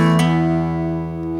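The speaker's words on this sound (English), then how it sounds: "he's hammering on his ring finger on the 4th string" A guitar chord with a hammer-on by the ring finger on the fourth string while the index finger bars at the seventh position, one short ringing note sequence heard close and clear.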